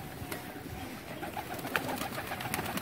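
Pigeons for sale coo softly and repeatedly, a gentle murmuring under a steady, quiet background hum, with no talking.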